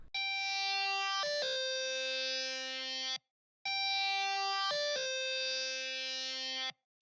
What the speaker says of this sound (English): I added this like lead guitar that plays like halfway through the lead